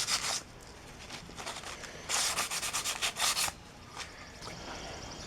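Sanding on the flywheel of a 1966 Briggs & Stratton small engine, heard as close, scratchy rubbing strokes in uneven bursts, a few longer passes and short swipes with brief pauses between them.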